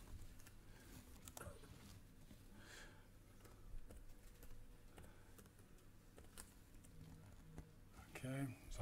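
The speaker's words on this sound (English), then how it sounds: "I'm typing a little bit in the blind, so forgive me my typing mistakes." Typing on a computer keyboard while setting up diskless booting of a Raspberry Pi 400, with scattered clicks over a steady low hum and a voice speaking at moments.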